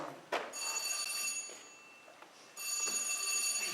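A telephone rings in an indoor scene, two bursts of a bright, steady electronic ring separated by a short pause, moderately loud with a faint thump near the start.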